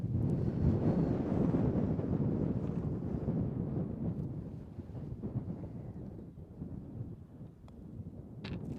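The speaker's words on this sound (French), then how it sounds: "Le vent se relève." Wind gusting across a golf course, buffeting the microphone with a loud low rumble that swells early and then eases to a steadier roar, without any speech.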